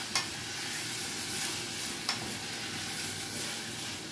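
Onions sweat gently in a pan on a stove as they are stirred, a soft continuous sizzle with two sharp clicks of a utensil against the pan about two seconds apart.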